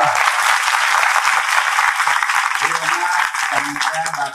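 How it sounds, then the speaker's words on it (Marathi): An audience at a Marathi kirtan gives donors a round of loud, sustained applause, dense clapping throughout, with a voice speaking over it toward the end. "त्यांच्यासाठी एकदा जोरदार टाळ्या."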